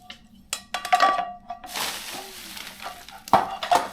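A camping frying pan carried on a bike tour being handled, with close metallic clinks, scrapes and clatters in irregular bursts and a brief hissing rustle in between, and no voices.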